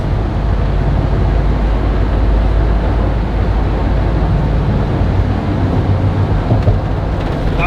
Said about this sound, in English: let's see how this thing drives on the freeway